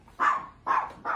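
A small dog yaps three times in quick succession, sharp high-pitched barks close by with short gaps between them.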